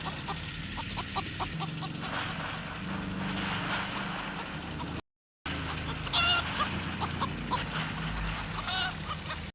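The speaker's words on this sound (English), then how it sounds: "Clucking of the chicken sounds eerily like laughter" Chicken clucking from a scene in the 1974 horror film The Texas Chain Saw Massacre, steady broken clucks over a dense background noise with a few brighter squawks near the end.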